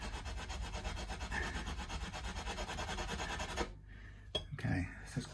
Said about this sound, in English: We can just smooth it out with a bit of higher grit or two.